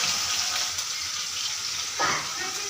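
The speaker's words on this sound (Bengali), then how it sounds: "এখানে মাছ ভাজা বসিয়ে দিয়েছি" Fish frying in a pan gives a soft, steady hiss, and about two thirds of the way through there is a brief louder splash or burst of sizzle. Faint kitchen sounds sit underneath.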